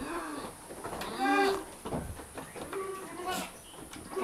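A goat bleats a couple of times close by, with its wavering cries standing out against faint background noise and outdoor rustling.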